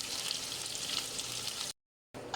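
Beef sautéing in a pan for stir-fried noodles, a bright continuous sizzle close up that cuts out briefly near the end and then resumes.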